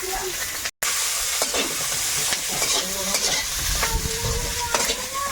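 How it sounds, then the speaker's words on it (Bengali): Whole cumin, bay leaf, grated ginger, green chili and tomato frying in hot oil in a home kitchen, a steady close sizzle with stirring scrapes throughout and a brief dropout near the start. "তেলে একটু গোটা জিরে তেজপাতা এদিকে আদা গ্রেট করে দিয়ে দিচ্ছি কাঁচা লঙ্কা টমেটো দিলাম"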